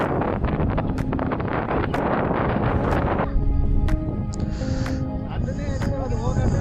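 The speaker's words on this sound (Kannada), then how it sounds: "ಗಾಳಿ, ವಿಂಡ್ ಬ್ಲಾಸ್ಟ್." Wind blasts across the microphone on a motorbike ride through thick fog, loud and rumbling and continuous, with a voice talking over it.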